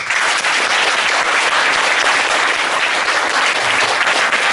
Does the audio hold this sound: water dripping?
no